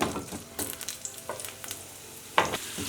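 Chopped onions frying in a tablespoon of oil in a pan for tomato onion curry, with a low sizzle broken by repeated scraping stirs and spoon knocks against the pan, close and alone.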